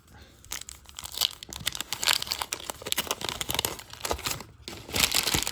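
Wrappers from 1990 Fleer baseball card wax packs are crumpled and crinkled up close, giving a busy run of crackling, papery bursts with brief pauses and no talk.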